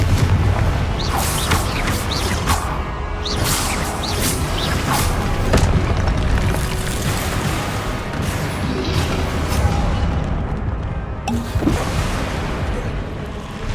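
Repeated Confringo blasting-spell explosions in the Hogwarts Legacy game, loud booms and crashes layered over dense battle noise, continuous and close without pause.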